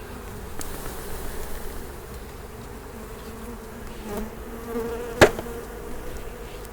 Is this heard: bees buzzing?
yes